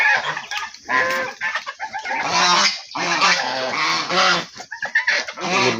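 Many domestic ducks on a small duck farm call in a dense, loud, overlapping chorus of honking quacks that continues without pause, close and busy throughout.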